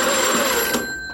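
A telephone bell rings loudly and close with a sustained metallic jangle, then cuts off and fades into a short pause.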